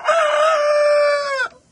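A single close, loud crow from chickens in a chicken tractor, a sustained tonal call lasting over a second that cuts off sharply, followed by a faint cluck.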